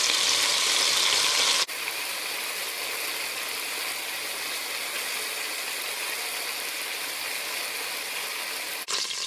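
Beef fries in a pan in a generous amount of oil, giving an even, steady sizzle that holds for several seconds, louder briefly at the start and end.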